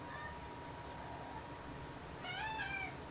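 Shadow, a pet cat, lets out a short meow near the start and a louder, clearer meow near the end, both close by over a low background hum.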